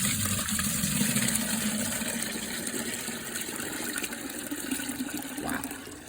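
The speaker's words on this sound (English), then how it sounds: "So here is the dirty water from the pet cleaning." Dirty water from a professional pet cleaning of a couch runs and splashes in a steady, fairly quiet wash of liquid noise that carries through the whole stretch without a break.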